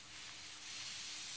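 A soft, steady hiss of spray from a bottle onto a Dogo Argentino dog during a bath, quiet and continuous for just over a second.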